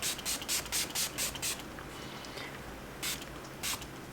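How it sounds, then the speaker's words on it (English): A Milani setting spray bottle is pumped onto a face in a burst of rapid hissing spritzes, eight or so quick pumps close to the microphone, a pause, then two more sprays, with no talking. "So I'm going to spray the Milani one on this side."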